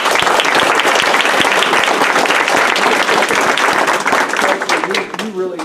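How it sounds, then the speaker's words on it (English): An audience at a school board meeting claps loudly and steadily in a dense round of applause, tapering off at the end. "Let's give Kelsey a round of applause."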